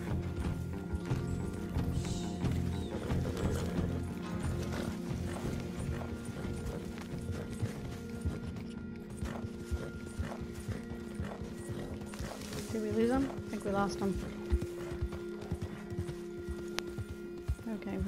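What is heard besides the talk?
horse galloping in the video game Red Dead Online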